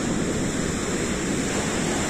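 Sea waves breaking on a beach at Eforie Nord on a cool, overcast October day, a steady loud roar of surf with wind noise and no pause.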